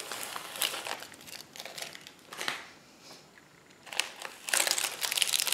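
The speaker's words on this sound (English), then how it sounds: "Okay, take the tape off." Tape peeled off after a painting project crinkles and rips in bursts. There are several close crackly tearing and peeling passages separated by brief quieter pauses, with a longer, denser rip at the end and no talk.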